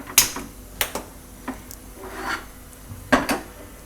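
A pressure cooker is set down on a gas stove burner with several short metallic knocks and scraping rubs spread across a few seconds, fairly close and moderate in level, with no talking.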